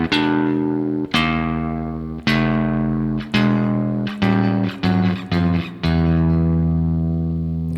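A Stratocaster electric guitar runs through an EHX Ring Thing ring modulator, giving a series of picked notes and chords with a metallic, inharmonic ring and ringing sustain, some notes long and others short and quick, with no voices.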